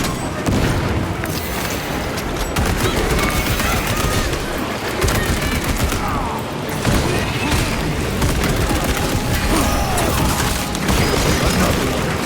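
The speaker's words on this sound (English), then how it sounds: "Frag grenade deployed." Frag grenade blasts in Warhammer 40,000: Space Marine 2 erupt amid a continuous, loud wall of gunfire and booming combat across the whole stretch, with no clearly separated single explosion.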